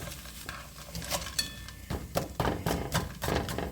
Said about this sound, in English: Now I'm going to saute those for a little bit, for a few minutes, just to get them softened up.